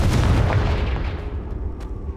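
Confringo blasting spell in the Hogwarts Legacy video game, a loud booming burst that rumbles low at the start and fades over about two seconds with crackling tail.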